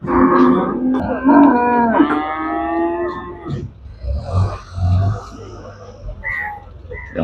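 Cattle being unloaded at a livestock market give several loud, drawn-out moos close by, followed by quieter grunts and scattered market noise.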